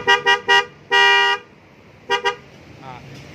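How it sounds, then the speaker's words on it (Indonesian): A Denso horn fitted to a Yamaha Nmax scooter honks close and loud: three quick short toots, one longer blast, then two more short beeps. "Ini klaksonnya pakai Denso."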